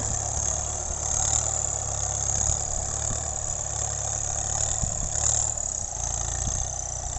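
A steady, low tractor diesel engine drones continuously at idle, with a constant rumble and faint knocking throughout, close by and without any voices.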